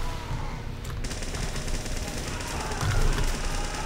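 Rapid gunfire from a Team Fortress 2 match fills the clip, a steady dense stream of shots that swells louder near the end, with no clear speech over it.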